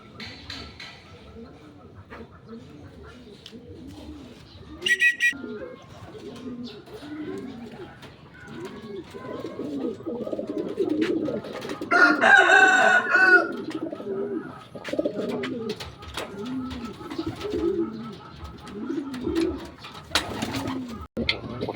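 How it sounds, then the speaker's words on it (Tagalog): Racing pigeons coo in a steady, repeating rhythm close by, with occasional louder flutters and a person talking intermittently over them. "Ayan, palima nating ibon, mga lapatids."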